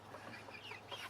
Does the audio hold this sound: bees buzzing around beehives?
no